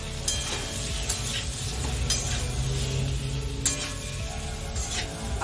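Small new potatoes fry in a pan over raised heat and are stirred gently, producing a steady sizzle with scraping and light clinks of the utensil, close and continuous, without speech.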